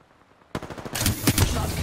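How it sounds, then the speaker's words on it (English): Rapid gunfire from an Apex Legends match, loud and dense, with repeated sharp shots crowding together after a half-second of near silence; the exact weapon, a Sentinel rifle, cannot be singled out among the bursts. "Oh, I hear sentinel shots."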